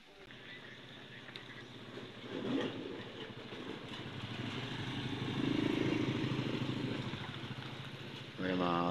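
A motorcycle engine runs at a steady idle close by, a low continuous drone on a Philippine farm, with a brief louder rev near the end.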